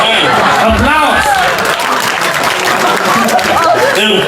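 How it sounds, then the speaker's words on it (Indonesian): Applause from the audience at a Balinese comedy show, dense clapping and crowd noise that stays steady and loud throughout, with voices mixed in. "Aplaus."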